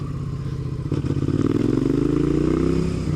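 A motorcycle being ridden, its engine droning steadily with a rising, revving pitch as the bike accelerates, loud and close, with some rattling clatter and no voices.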